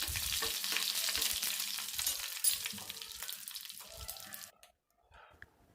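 Curry leaves and halved dried red chillies fry in hot oil as a tempering for banana pulissery, a loud close sizzle with stirring that fades out abruptly near the end.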